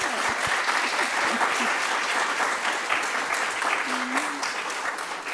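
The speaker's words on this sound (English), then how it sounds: "Can we have just one more round of applause for Dr. Liburd?" Sustained audience applause after an afternoon health equity lecture, steady dense clapping throughout with a brief voice and faint crowd murmur over it.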